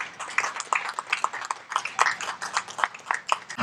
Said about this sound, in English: let's just give another round of applause for my coach, your coach, the city's coach, Willie B. Criss